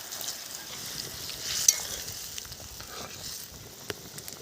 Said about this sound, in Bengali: ঝোল ফুটে গেছে